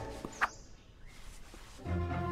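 A male finch gives a short, high chirping call early on, followed by quiet, sparse outdoor ambience and a low rumble toward the end.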